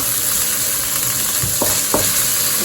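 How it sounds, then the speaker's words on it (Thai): Fried rice with Chinese kale and salted fish sizzling loudly in a hot pan, a steady close frying hiss with a couple of spatula scrapes and taps. "ไปจะผัดทีเดียวสามจานเลยนะ"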